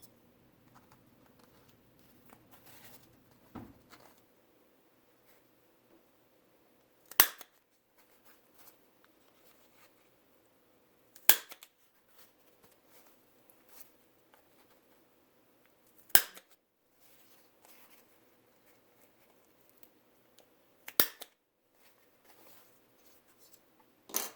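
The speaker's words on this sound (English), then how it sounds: "Now we're going to punch holes in the 4 corners." Sharp hole punch clicks pierce the four corners of a homemade face mask made from household items, about five distinct snaps spaced several seconds apart over faint rustling handling in a quiet room.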